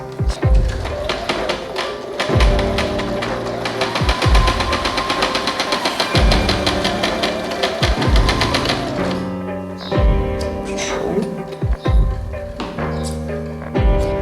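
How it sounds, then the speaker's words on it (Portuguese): A sewing machine stitches espadrille pieces together in close, rapid bursts of rattling needle strokes, pausing and restarting with soft handling thumps between runs. "vai passar uma costura nessa partezinha de baixo aqui do viés"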